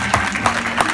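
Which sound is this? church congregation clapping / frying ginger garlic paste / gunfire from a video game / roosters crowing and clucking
church congregation clapping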